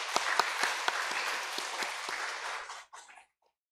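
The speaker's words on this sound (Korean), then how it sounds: "우리 믿음 속과 화평 속 위에서 다시 한번 큰 박수로 축복할까요?" An audience at a church Sunday service claps together in lively applause for about three seconds, the sharp individual claps standing out, before it quickly fades to silence.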